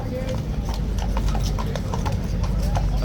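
A police horse walks along a busy tourist street, its hooves clip-clopping in a steady, even rhythm nearby, with crowd chatter and voices around it.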